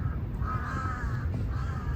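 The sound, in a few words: crows cawing in Lumpini Park, Bangkok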